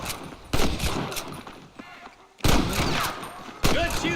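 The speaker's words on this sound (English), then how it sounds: "Good shooting, boy." Gunshots in the Red Dead Redemption video game, loud bursts breaking in at intervals, three heavy volleys with a quieter gap between them and faint voices underneath.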